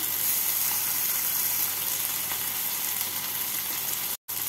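Mutton liver frying in a pan with green chili paste, ginger paste and garlic paste, a constant bright hiss close up that cuts out briefly near the end.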